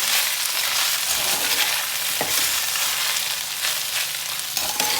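Sweet rice being stirred in a pan, a dense continuous sizzle and hiss with scraping stir strokes, loud and close throughout, with no talking.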